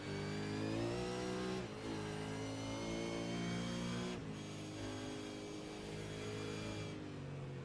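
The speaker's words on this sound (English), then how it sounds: "You hear the car get loose over the crest there." A V8 race car in a racing simulator game at the Algarve circuit revs continuously and steadily, its engine note rising and falling with two brief dips in throttle, loud and close throughout with no voices over it.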